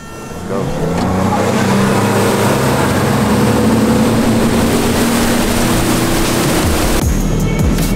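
Several bass fishing boats roar off together at a tournament start, a loud sustained outboard engine drone with rising pitch and water rush, voices talking over it.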